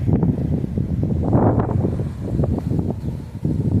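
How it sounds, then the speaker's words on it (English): Strong wind blows outdoors and buffets the microphone in a loud, continuous low rumble with gusty surges and no speech. "I'm trying to let the wind subside a little bit."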